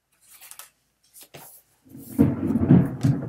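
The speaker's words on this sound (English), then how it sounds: "Oh, did you hear that thunder?" A low, rumbling roll of distant thunder swells and lingers for a couple of seconds after a few faint scattered knocks.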